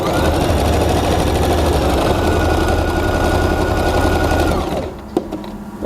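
A Singer Start 1306 sewing machine stitches thin fabric at a fast, steady clatter for several seconds, loud and close, then stops abruptly followed by a couple of small knocks.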